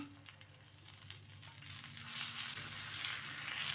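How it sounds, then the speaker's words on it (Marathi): Tomatoes roasting with garlic in a hot pan for green chilli thecha give a steady, close oily sizzle that grows louder and fuller toward the end, with no talking. "आता आपल्याला यामध्ये टोमॅटो घालून घ्यायचा आहे आणि टोमॅटोही छान भाजून घ्यायचा आहे"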